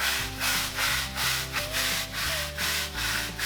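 The bristle end of a broom, used without its stick, scrubs a floor in steady back-and-forth strokes, giving a rhythmic rough rubbing and scraping close by, with a low hum underneath.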